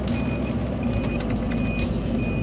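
A velomobile's right turn signal indicator sounds at a roundabout as a steady series of short, high electronic beeps repeating in even pulses over continuous low road and wind rumble.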